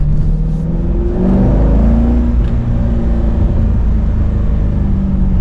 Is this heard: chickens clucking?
no